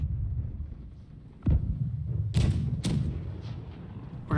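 Cannons and swivel guns fire during a naval battle in the pirate game BlackWake: several separate heavy booms ring out over a low rumbling backdrop, each a sudden thump with a short decaying tail.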